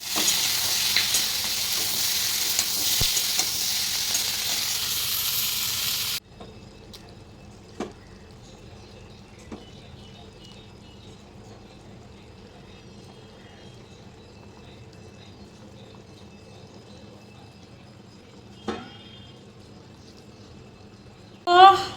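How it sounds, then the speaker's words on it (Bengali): Hilsa fish simmers in curry gravy, giving a brisk sizzling hiss for several seconds that suddenly drops to a faint, low bubbling with a few soft clicks. "ঝোলের মধ্যে মাছ দিয়ে দিয়েছি এবার একটু টকবক করে ফুটুক"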